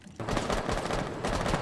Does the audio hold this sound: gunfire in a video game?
yes